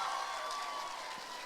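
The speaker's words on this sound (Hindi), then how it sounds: "Clapping for that. जोरदार तालियां." Audience applause and light cheering at a media conclave event with a film star guest, a brief dense patter of many hands that holds steady and fades slightly, with a faint voice underneath.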